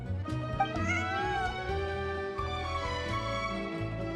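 A cat in a video game meows repeatedly, a series of clear, close, drawn-out cries with no talking over them.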